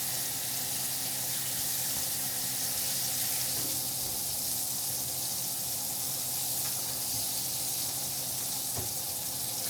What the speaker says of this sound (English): Rinse this up off my hands again.